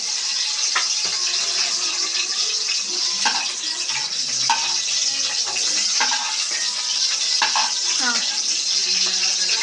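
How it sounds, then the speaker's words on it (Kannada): Green chillies frying in a pan for a chicken biryani, a loud steady sizzle running throughout with occasional stirring clicks and scrapes, close up. "ಈಗ ಹಸಿಮೆಣಸಿನ್ಕಾಯಿ ಹಾಕಿ ಅದನ್ನ ಫ್ರೈ ಮಾಡು"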